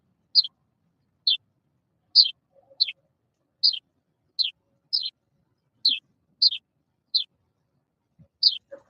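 A baby bird chirps about a dozen times, each a short high call spaced at steady intervals of under a second, clear and fairly close against an otherwise quiet background.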